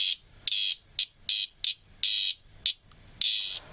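Male cicadas buzz in the Australian bush, loud pulsing bursts of shrill rasping noise repeating roughly twice per second with short gaps between, close and alone.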